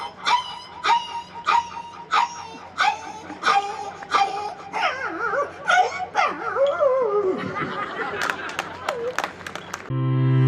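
A man imitates a dog with a rapid series of sharp yelps and barks, sliding into wavering whimpers and howls, loud and close, before an abrupt cut.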